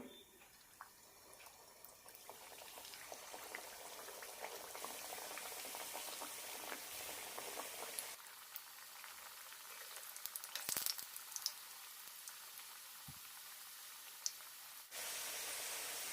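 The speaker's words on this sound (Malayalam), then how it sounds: "ഇനി ഇത് ഫ്രൈ ചെയ്തെടുക്കാം എണ്ണ ചൂടായിട്ടുണ്ട്" Mutta pori, a crispy Kerala egg snack, fries in hot oil over a medium flame with a continuous bubbling crackle that drops quieter and sparser partway through, then swells again near the end.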